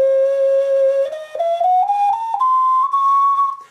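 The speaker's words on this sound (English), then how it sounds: "I'll block the left hand whistle hole and I'm going to play the octave on the right" A Langley double ocarina in C plays a clear, breathy ascending scale across an octave, each note held briefly in a close, loud, steady series.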